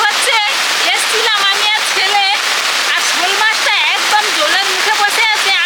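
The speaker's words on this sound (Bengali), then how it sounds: "বৃষ্টি হচ্ছে" Rain falls steadily outdoors at a home garden, a constant broadband hiss of drops underneath loud, excited talk from nearby voices.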